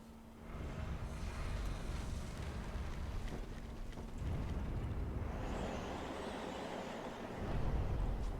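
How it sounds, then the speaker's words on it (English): Gusting wind in the game Dark Souls 3, atop the castle of Lothric: low, hollow whooshing that rises and falls in several swells, faint and distant, with no voices over it. "It's like a gust of wind comes through."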